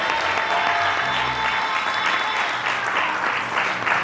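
Wedding guests clap their hands together in a dense, continuous round of applause at a wedding ceremony, steady and fairly loud, with no clear talk over it.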